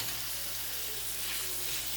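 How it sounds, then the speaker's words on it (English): Ground beef frying in a hot pan, giving a dense, even hiss of sizzling that holds steady and close throughout, without any voices. "now we're going to go ahead and add our ground meat"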